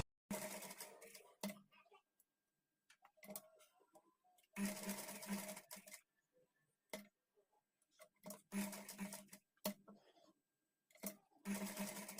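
A sewing machine stitches folded patchwork on a blouse back neck, running in repeated bursts of rapid stitching separated by pauses, close and fairly loud.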